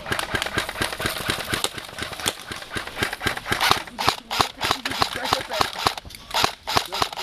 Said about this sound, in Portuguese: Mano, é muito tiro.